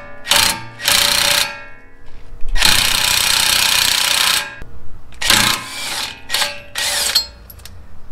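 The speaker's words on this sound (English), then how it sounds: "So now I'm going to cheat. Just use my impact gun." An impact gun fastening front brake parts on a 2013 Toyota FJ Cruiser, loud close bursts of rapid hammering, several short and one long run, separated by pauses.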